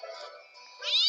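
A cat gives one short, drawn-out meow that rises sharply and grows louder at the end, close by and alone.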